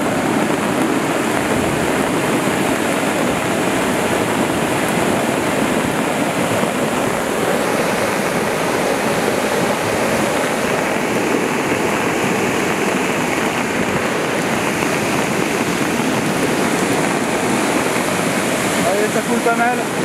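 Torrential runoff from heavy rain and hail rushes down a mountain stream at Le Claret, a loud, steady roar of churning water that holds for the whole stretch with no letup.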